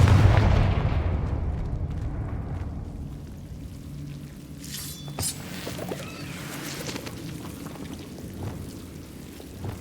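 A Confringo blasting spell explodes in Hogwarts Legacy with a loud, booming burst up front that decays into a long rumbling, crackling tail, followed by a few smaller pops and debris-like crackles over several seconds.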